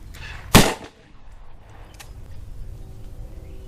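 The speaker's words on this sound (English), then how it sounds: "Just wants to make sure that the Ruger Alaskan will ignite all primers that I have at my disposal." A single sharp, loud report as a Ruger Redhawk Alaskan revolver fires on an S&B small rifle primer, followed by a faint click and quiet room noise.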